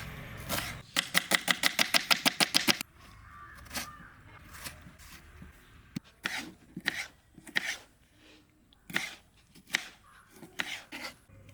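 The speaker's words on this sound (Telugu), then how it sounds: "ఇలా ఘాట్లు పెట్టుకోవాలి పచ్చిమిరపకాయలకి చేపల కూరలోకి." Sharp knife slitting green chillies for a fish curry, a quick run of about a dozen crisp evenly spaced cuts followed by slower, scattered single knife taps on the board.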